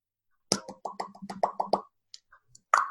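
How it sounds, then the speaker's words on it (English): A string of crisp mouth clicks made with the tongue, quick irregular pops in a quick burst, then a pause and one final louder click, close and alone. "Just me making a clicking sound with my mouth."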